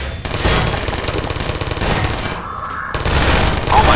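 Automated turrets in the video game Half-Life 2 fire in sustained rapid bursts, loud and continuous across the whole stretch with a brief dip midway, alongside other game noise.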